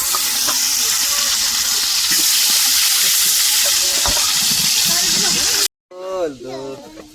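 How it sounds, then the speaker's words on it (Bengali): Fish frying in a pan in a home kitchen, a steady loud sizzle and hiss of hot oil that runs continuously before cutting off abruptly, followed by a short burst of people talking. "এবারে রিমির বাবা মাছগুলো ভাজবে"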